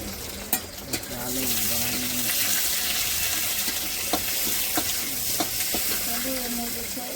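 Tomatoes fry in a pan in a home kitchen, a continuous sizzle punctuated by sharp clicks and scrapes of a spoon against the metal, with faint tonal sounds in the background.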